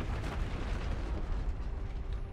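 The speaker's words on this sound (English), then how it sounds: "There's the explosion." Explosion in the video game Star Ocean Integrity and Faithlessness, a low rumbling boom that holds steady and diffuse throughout, moderately quiet, with no voice over it.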